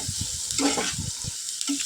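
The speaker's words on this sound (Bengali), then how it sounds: "পেঁয়াজের সাথে খুব ভালো করে ভাজতে হবে।" Onions frying in a pan with whole spices such as fennel seeds and chili powder for a small-fish recipe, a steady close sizzle with a few soft stirring clacks, no voices.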